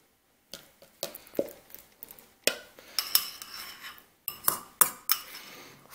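A spoon scrapes and clinks against a container while warm, soft oatmeal-like fruit fly food is mixed and packed in, giving irregular close taps and knocks separated by short quiet gaps.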